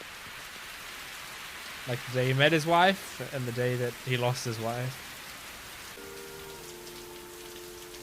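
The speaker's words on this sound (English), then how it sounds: "It's raining again." Steady soft rain falling in a One Piece anime episode, a faint continuous hiss under a man's spoken lines and a brief musical tone near the end.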